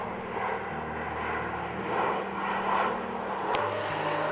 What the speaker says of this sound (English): And there's an airplane